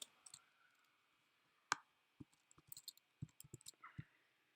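Scattered clicks of fingers typing on a computer keyboard, quiet and close, arriving in short irregular bursts with brief pauses between keystrokes.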